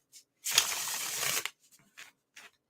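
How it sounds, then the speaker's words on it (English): Tarot cards being shuffled close up: a loud, dense riffling burst lasting about a second, followed by a few short soft card flicks, with brief bits of quiet voice. "while I shuffle, because I take forever to shuffle"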